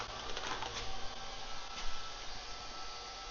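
A Nash Solutions Filter Cleaner 2.0 runs steadily while heating up, giving off a constant broadband whooshing hum with small fluctuations, fairly close and alone with no talk.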